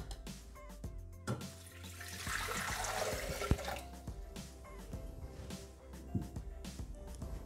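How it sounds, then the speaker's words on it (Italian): Water pours into a Thermomix TM6 jug, a steady splashing gush for a couple of seconds amid light clinks and kitchen handling noises, with no talk. "Iniziamo la ricetta mettendo all'interno del boccale l'acqua"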